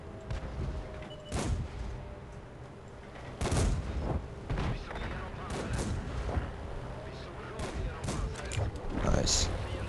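Tank cannon firing APCR rounds in World of Tanks on a Swedish tier 3 vehicle, several sharp booming shots spaced a couple of seconds apart over distant battle noise, with occasional talk in between.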